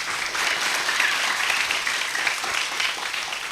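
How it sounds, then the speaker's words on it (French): An audience at a children's holiday program applauding a child's Quran recitation, sustained, even clapping from a crowd that fills the room and holds steady from start to finish. "On l'applaudit très très fort."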